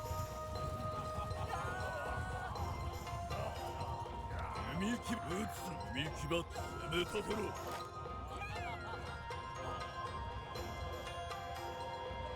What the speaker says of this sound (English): So look, this is my horse.